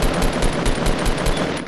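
Rapid automatic gunfire from a Fortnite match on a mountain top, a loud close burst of evenly spaced shots rattling continuously for nearly two seconds.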